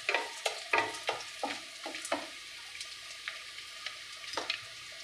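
Dried red and green chillies sizzle in hot oil while a spoon scrapes and stirs them in quick, irregular strokes, close and fairly clear over a quiet hiss.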